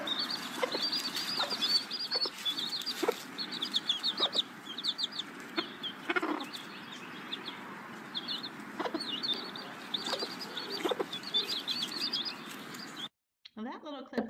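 A hen clucks steadily with peeping chicks tucked under her wings, bird chatter close and continuous, with occasional flapping, until it cuts off abruptly near the end.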